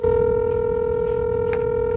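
Steady telephone dial tone while phone numbers left by villa guests are called, a continuous loud hum holding unbroken for the full two seconds.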